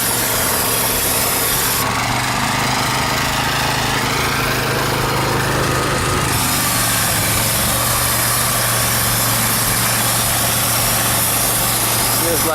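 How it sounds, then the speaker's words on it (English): A pressure washer engine idles and is revved up, a steady loud mechanical drone with a raised, rougher stretch in the middle before settling back to a constant hum. "Let's try and idle it up"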